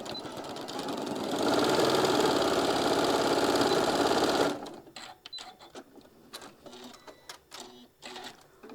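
A sewing machine stitches the seam of a small fabric pouch in one steady, loud whirring run of about four seconds, then stops, followed by quiet handling clicks and rustles.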